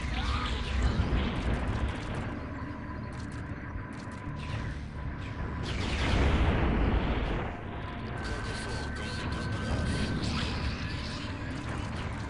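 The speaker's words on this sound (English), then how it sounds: "Why are you exploding everything?" Rumbling explosions in the space combat video game SPAZ, a heavy, continuous booming roar with a louder surge in the middle, under a voice talking.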